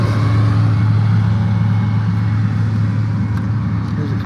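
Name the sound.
convoy of trucks driving past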